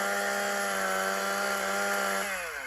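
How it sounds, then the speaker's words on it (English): Chainsaw alternate-fire weapon in the BRX laser tag game, a loud continuous buzzing whine with steady harmonic tone that drops in pitch near the end, heard alone. "this button does a chainsaw"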